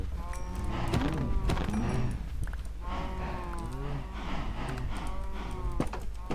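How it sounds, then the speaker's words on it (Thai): A Minecraft cow moos repeatedly, several drawn-out, close, clear lowing calls following one another with short gaps, with no talk over them. "ผมต้องลงมือฆ่าวัวแล้วล่ะฮะ"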